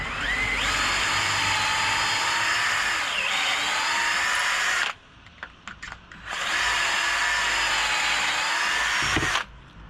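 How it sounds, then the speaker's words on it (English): A power drill runs through a pocket hole jig while framing windows in a VW Crafter camper van conversion, two long loud whining bursts split by a short pause with brief taps and clicks. "Pocket hole jigging."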